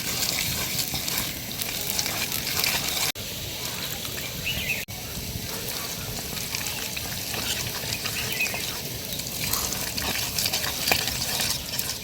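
Semolina batter being mixed in a bowl, a steady scraping and stirring texture running continuously at moderate level, with two brief dropouts and no talk.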